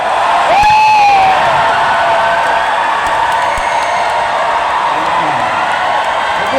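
A crowd of athletes at a sendoff ceremony cheers and whoops loudly, a sharp whistle rising early, then sustained applause and shouting continue at a steady level.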